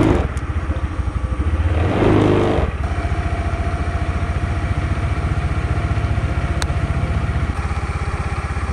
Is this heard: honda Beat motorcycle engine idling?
yes